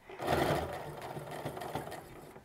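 A sewing machine backstitches at the start of an apron strap, a steady close mechanical whir with a fast stitching pulse that holds for a couple of seconds with slight variations in pace.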